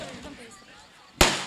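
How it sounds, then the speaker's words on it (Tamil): A firecracker bursting, one in a counted series: a single sharp, loud crack near the end, preceded by faint background murmur. "இப்ப வந்து 23வது வெடி வெடிச்சுக்கிட்டு இருக்கு"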